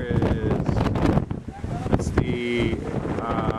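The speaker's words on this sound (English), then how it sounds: "It's a little breezy out." Strong wind buffets the microphone at the Pali lookout off the Pali Highway, blowing in steady gusts while a person talks over it.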